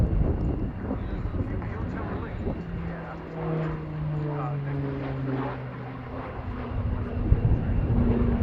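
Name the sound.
Tucano display aircraft flying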